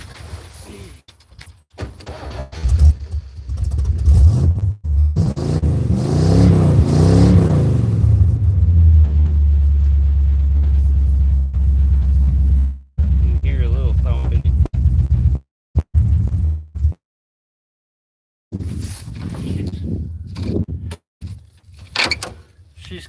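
A cold Ford 390 V8 with a high-compression factory cam cranks, fires and settles into a loud, steady, rumbling idle close by, with brief bursts of revving and someone talking over it before it cuts out.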